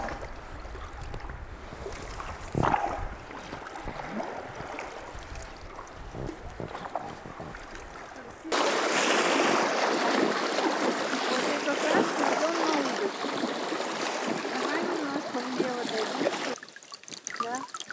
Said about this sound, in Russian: А сегодня сплавляемся вниз, до устья реки Койва